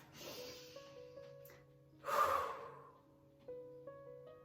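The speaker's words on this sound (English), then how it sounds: "take a moment, take a breath" A single slow, deep breath rises and falls near the microphone during a tarot reading, with faint sustained tones humming underneath.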